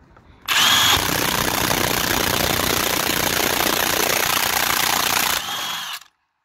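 A Parkside PASSP 20 Li A1 cordless impact wrench tightens a screw until it snaps, a loud, continuous hammering buzz lasting about five seconds that stops abruptly.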